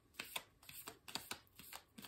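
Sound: shuffling a deck of tarot cards

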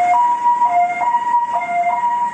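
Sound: ambulance siren

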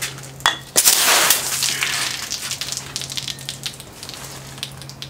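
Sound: opened nitro stout beer bottle foaming over

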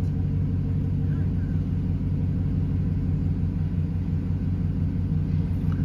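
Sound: pickup truck engine idle fluctuating

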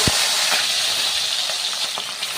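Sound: prawns frying in mustard oil

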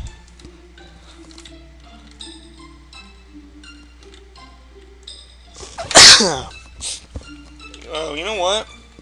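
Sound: repeated sneezing

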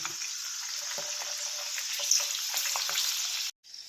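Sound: green peas frying in hot oil

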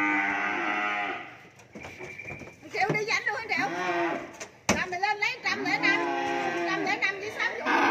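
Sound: cattle mooing at a cattle farm

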